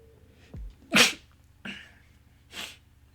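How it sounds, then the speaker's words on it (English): A quick inhale, then a sharp sneeze up close, followed by two more fainter breathy bursts spaced apart. "I'm about to sneeze in a second"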